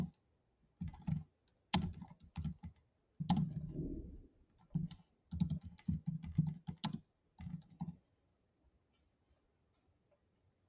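Someone types notes into a computer form on a keyboard, with close, clattery bursts of keystrokes in quick uneven runs for about eight seconds before the room falls quiet.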